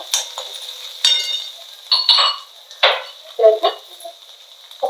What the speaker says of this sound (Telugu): నేను ఒక నాలుగు వెల్లుల్లి తీసుకున్నానండి వేపాలి బాగా